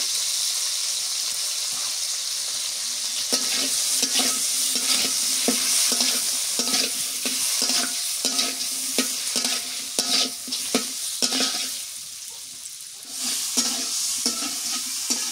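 Large prawns frying in hot oil with salt and turmeric, a steady close sizzle broken by repeated spatula stirs and scrapes throughout, no talking.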